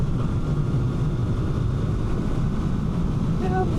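Kawasaki Z500 or Honda CB500F beginner motorcycle at full throttle from 70 to 80 near 6,000 RPM, a steady loud engine drone under heavy wind rush from a riding microphone, with no break throughout.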